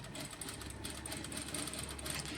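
A domestic sewing machine runs steadily and quietly, stitching a cloth drawstring bag made from household fabric, with a soft, even mechanical whir that continues through the whole stretch and no talking.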